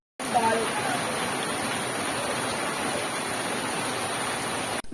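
Heavy rain pours steadily outdoors where people are cooking, a dense, continuous hiss that starts abruptly and holds at an even level to the end, close and loud with no clear voices.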